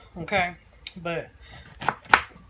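Knife chopping vegetables on a cutting board in a home kitchen: a few sharp cuts heard near and clear alongside someone talking.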